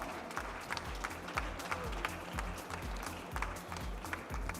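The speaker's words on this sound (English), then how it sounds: "May we have a round of applause?" Crowd applause at an awards ceremony for a company runner-up stepping onto the stage, steady clapping under a thumping rhythmic music beat, moderately quiet and continuous.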